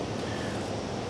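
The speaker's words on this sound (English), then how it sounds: "it's really windy today" Strong wind buffets the microphone outdoors on a fishing outing, a dense, steady rushing roar with slight gusting swells and no voices.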